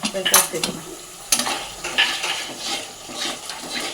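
A spice masala made with a dried red chilli paste fries in a pan as a spoon stirs and scrapes against the metal, producing sharp clinks over a continuous sizzle, close up and without speech.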